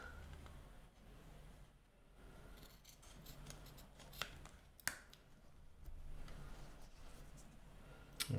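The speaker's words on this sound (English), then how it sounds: "we're just going to cut a piece of heat shrink, about 12 to 15 mils wide" Scissors snip a piece of heat shrink tubing for slot car front tyres, faint quiet cuts with a couple of sharper clicks over a low background hum.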